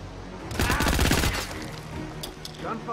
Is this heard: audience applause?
no